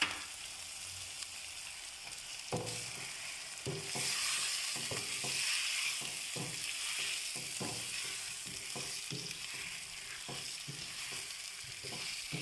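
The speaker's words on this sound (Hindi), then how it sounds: "इसके अंदर अब ये तकरीबन 1 किलो के करीब चिकन है जो मैं ऐड कर रही हूँ।" About a kilogram of chicken frying in a karahi with onion, garlic and ginger, giving a steady loud sizzle with clinks and scrapes of stirring scattered throughout.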